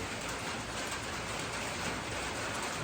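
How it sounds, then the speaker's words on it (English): Rain falling outdoors in Mississippi, a steady, dense hiss of drops with no breaks, faint and even throughout, with no voices. "We're getting a little rain here in Mississippi."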